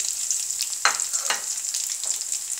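Chopped onion frying in hot oil with cinnamon and cardamom for a hotel-style vegetable curry, giving a steady high sizzle with a few soft stirring clinks, close and moderately loud with no talk.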